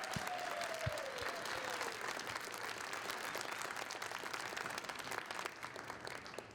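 A community meeting crowd applauds school staff with dense, continuous clapping at an even level throughout, a little quiet and roomy, with a faint brief voice near the start.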